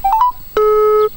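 Telephone keypad tones dialing a contest hotline: a few quick DTMF beeps followed by one longer steady tone, loud and clear with no talk.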